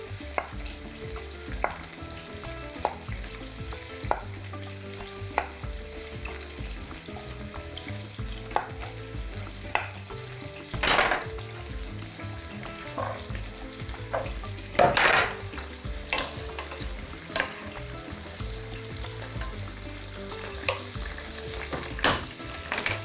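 Beef and vegetables, including sliced celery stalks, sizzle steadily in a hot pan while a utensil stirs them, with occasional sharp scrapes and clinks against the cookware.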